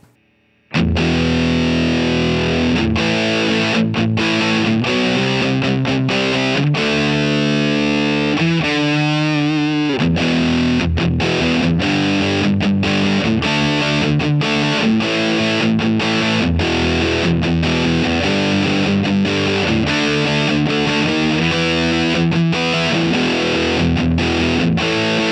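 Electric guitar on the bridge pickup, played through a Mosky Obsessive handmade overdrive pedal with the drive set high, producing a thick, loud, gritty tone through a mix of riffs and chords, sustained throughout with no speech.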